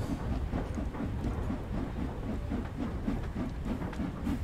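Polar Express steam train in Train Sim World, a steady rhythmic chugging and clatter with a hissing wash of steam, continuous and fairly close.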